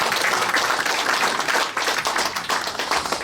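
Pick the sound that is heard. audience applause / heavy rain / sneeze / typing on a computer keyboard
audience applause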